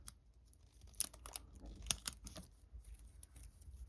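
Plastic wrap being peeled off Tozo NC9 earbuds gives soft, close crinkling and tearing rustles with a few sharp crackles, quiet and irregular, with no talking.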